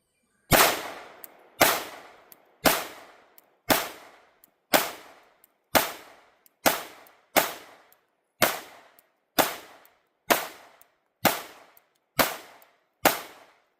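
A Sig Sauer P365 Macro pistol fires twelve sharp, evenly spaced shots about a second apart, each a loud close crack with a quick decaying echo.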